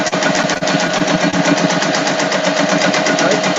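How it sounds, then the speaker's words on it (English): A loud, steady mechanical whir with a rapid rattling rhythm, like a sewing machine running continuously close by. "Use your sewing machine. That's what was loud."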